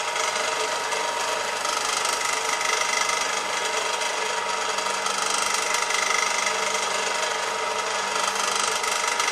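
A metal lathe drives a tapping chuck to cut a thread, giving a steady, close mechanical whir and grinding hum that holds at an even loudness throughout.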